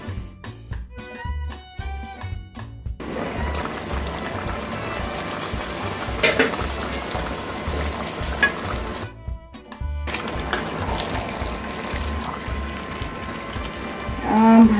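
Hot tempering poured into cooked mixed vegetables in a pan for a labra, a loud, crackling sizzle that keeps going with bursts of spattering and stirring, briefly cut out mid-way, with no talking.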